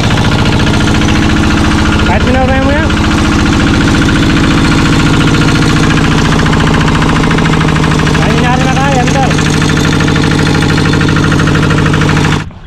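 A small engine on a machine meant for farm use runs loud and close, a dense, steady mechanical drone with a rapid knocking pulse throughout. Brief voices cut in over it before it cuts off abruptly at the end.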